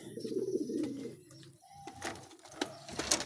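A male king pigeon coos in a series of soft, throaty calls at close range, with faint chirps and rustling in the background and no talking.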